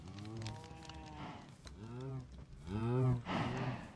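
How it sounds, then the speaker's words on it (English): Cows mooing in the Minecraft video game, several long drawn-out low moos following one another closely, loud and near, with no talk over them. "look at all the cows"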